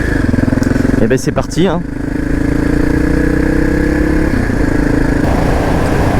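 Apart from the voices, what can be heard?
Suzuki 650 DRSE motorcycle engine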